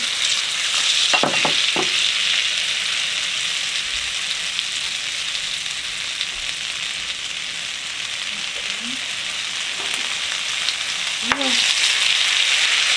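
Butter and oil sizzle and spit steadily in a pan for onion soup, a close and constant frying hiss broken by a few clinks and stirring sounds.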